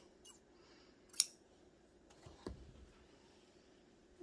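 Scissors snip the yarn ends on a knitted fair isle hat, giving a couple of short, quiet cuts in an otherwise hushed room.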